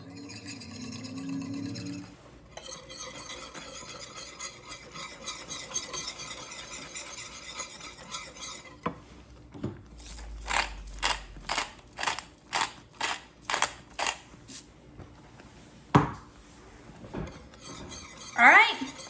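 Country gravy whisked in a pan for chicken fried chicken, with rhythmic rapid metal strokes against the pan that come in a regular burst of beats, plus clinks and kitchen clatter between, close and moderately quiet.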